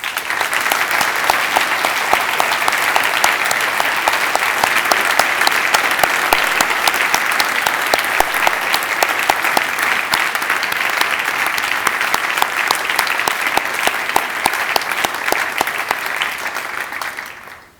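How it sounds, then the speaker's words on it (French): Warm, prolonged applause from the audience at a formal academic opening ceremony, a thick even wash of clapping that holds steady for the whole stretch before tapering off at the very end. "je vous demande, une fois encore, de les applaudir chaleureusement"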